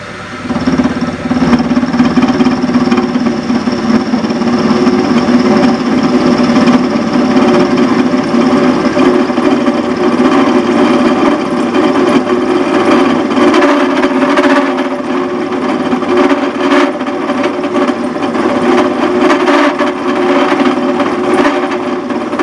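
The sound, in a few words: lathe slowly feeding a cut, with oil, countershaft build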